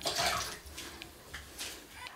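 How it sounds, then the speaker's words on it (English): A quarter cup of white vinegar is poured into half a cup of lukewarm water to make a makeup brush cleaning solution, giving a close, continuous watery splashing and trickling for about two seconds. "I have in here half a cup of lukewarm water, and I am going to add quarter a cup of white vinegar."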